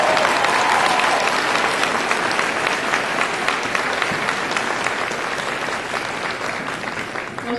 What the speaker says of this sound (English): please give the parents, families, and friends gathered here a round of applause